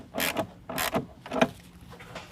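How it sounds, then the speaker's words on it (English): Band clamp on a K&N 63 Series AirCharger air intake coupler being tightened with an 8mm tool on a 2019 vehicle, giving three short bursts of ratcheting, rasping clicks, close and fairly loud, with faint fiddling afterward. "tighten down that band clamp"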